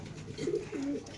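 An old-line grizzle pigeon at a pigeon farm gives a short, low coo, a brief rolling phrase over a faint background hum.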